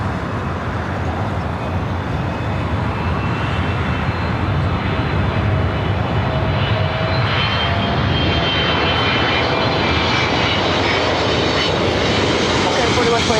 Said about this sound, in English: Air Flight 12 coming up from Taipei.